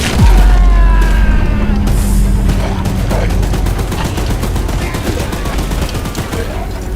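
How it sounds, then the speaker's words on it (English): Rapid automatic gunfire in Poppy Playtime Chapter 5 pours at a monster in a dense, continuous barrage, loud and close, with a heavy boom at the start and a sustained rattling stream of shots underneath game sounds. "Don't let the gun overheat!"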